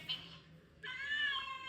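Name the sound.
cat meow played from a phone app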